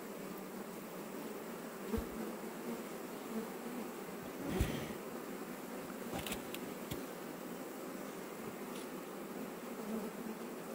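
Bees buzz steadily inside a wooden stump during a rescue near a house, a faint continuous hum with a few soft knocks and clicks.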